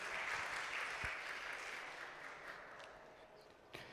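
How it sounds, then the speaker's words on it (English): Audience applause at a panel discussion on circularity in denim design, a steady wash of clapping that starts strong and slowly thins out over four seconds, with a single sharper clap near the end. "Let's welcome them with a big round of applause"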